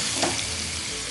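A stuffed pomfret fish frying in a pan gives a dense, even hiss of hot oil, close and steady, with a brief stronger spatter as the fish is turned.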